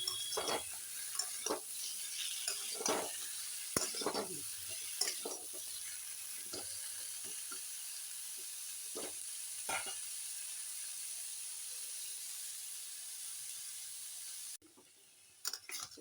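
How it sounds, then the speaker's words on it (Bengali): Potato and pumpkin fry in a wok, a quiet steady sizzle broken by repeated sharp scraping strokes of a spatula stirring, busier at the start and again in the last seconds. "আলু দিয়ে নিলাম এবং কুমড়ো দিয়ে নিলাম, কড়াইতে নাড়ছি"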